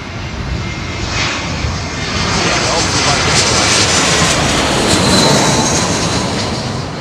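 A plane on overhead arrival to runway 27L at London Heathrow roars loudly and steadily as it passes close above, its jet noise swelling slightly in the middle before easing.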